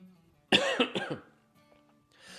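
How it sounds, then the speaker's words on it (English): A short burst of several harsh coughs from someone recovering from a cold, close to the mic, followed by quiet. "you're going to have to forgive my coughing"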